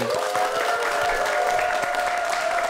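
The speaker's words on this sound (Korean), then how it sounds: "큰 박수로 한번 시범 보도록 하겠습니다." Audience applause breaks out at a Korean event ahead of a traditional-culture demonstration, a dense steady patter of many hands lasting a few seconds with a sustained tonal hum running underneath.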